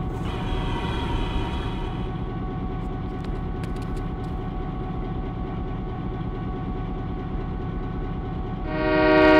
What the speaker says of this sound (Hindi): अभी जो हॉर्न है लोकोमोटिव का वो थोड़ा ब्लो कर देंगे